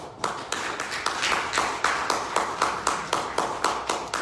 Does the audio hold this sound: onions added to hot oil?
no